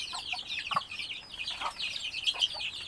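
Chickens cluck in short, scattered bursts over a busy bed of chirping birds, fairly close and steady throughout.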